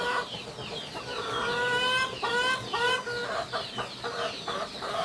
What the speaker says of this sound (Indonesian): Yuk, saya akan keluarin dulu ayamnya ya.